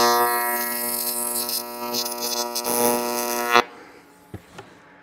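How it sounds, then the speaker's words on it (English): A short sealing weld on an Allison transmission case to stop a leak: a steady, close electric buzz with crackle that runs about three and a half seconds, then cuts off, leaving a few faint clicks. "short little weld"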